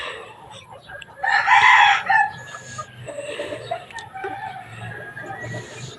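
A rooster crows once, loud and close, amid chickens clucking softly around it, with quieter fowl calls continuing afterward over a faint outdoor background.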